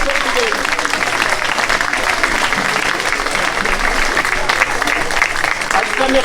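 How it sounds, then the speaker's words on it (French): Steady, dense applause from a parish audience at a pastoral end-of-year celebration, sustained clapping of a sizable indoor crowd throughout, with a speaking voice faintly over it. "Applaudissez-les encore"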